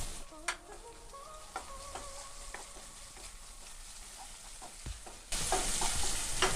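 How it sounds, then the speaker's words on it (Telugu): Curry leaves and coriander are stirred into ginger garlic paste frying in a pan for egg rice, with a faint sizzle and occasional soft scrapes that swell into a louder, hissing fry near the end. "తర్వాత కరివేపాకు, కొత్తిమీర వేసుకొని కలుపుకోవాలి."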